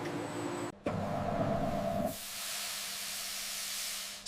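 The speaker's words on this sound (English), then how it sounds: "Steam enhances flexibility without cooking." In a date packing facility, steam treating dates hisses steadily, first with a mechanical hum underneath, then turning into a brighter, smoother jet of spraying steam that holds, close and even.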